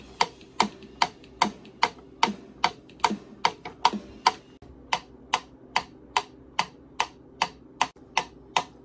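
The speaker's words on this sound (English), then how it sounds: "I know this metronome is really loud" Loud metronome ticking a steady song tempo, sharp evenly spaced clicks close up with faint guitar noise underneath.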